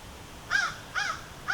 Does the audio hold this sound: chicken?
no